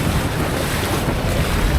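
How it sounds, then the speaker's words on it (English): Choppy waves from a passing powerboat slap around a windfoil board as a gust of wind roars across the microphone, a loud, steady rush of water and wind with no voices. "now we get the waves from the powerboat and a gust, so that will be interesting."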